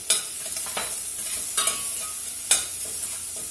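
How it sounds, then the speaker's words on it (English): Shrimp and finely diced onion sizzle in olive oil at close range, a bright continuous hiss punctuated by a few sharp utensil scrapes and clanks against the pan. "the next thing we're going to put in this is some very finely diced onion"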